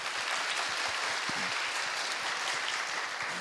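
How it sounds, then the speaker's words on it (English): Steady, dense applause from a sizable forum audience, many hands clapping at once with no pauses, filling the whole stretch at a strong, even level. "Please welcome him with a big applause."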